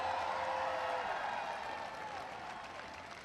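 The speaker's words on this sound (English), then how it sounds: "Give him a round of applause." Crowd applause for Ray LaHood, the Secretary of Transportation, with broad clapping that begins loud and gradually fades over a few seconds, mixed with a sustained tonal hum.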